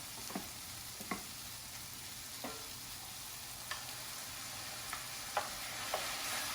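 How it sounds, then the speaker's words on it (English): Tomato puree going into a hot pan for farrotto with cannellini and tuna, giving a faint steady sizzle broken by scattered soft taps and stirring clicks, with no one talking. "we'll go ahead and add our tomato puree"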